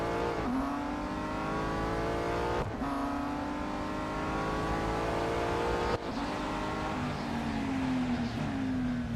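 Race car engines in the Real Racing 3 mobile game at Laguna Seca, a continuous high-pitched engine whine that rises steadily, drops briefly at gear shifts, then climbs again, with no voices.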